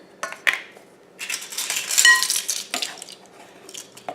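Metal spoons clink and scrape against a bowl while tablespoons of cocoa powder are measured in, a few sharp taps followed by scattered scrapes and clatter, close and fairly loud with quiet gaps.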